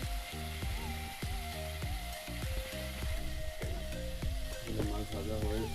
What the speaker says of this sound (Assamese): মাছ ভাজা হৈ আছে, এইফালে মাছ ফ্ৰাই হৈ আছে